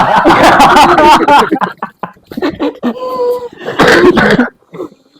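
Several throaty coughs and throat clearing in quick bursts, close by, broken up by short pauses and a bit of laughter.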